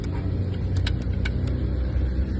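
A running engine with a noisy valve train rumbles steadily with a rattly mechanical clatter and a few faint ticks on top, heard up close and continuous.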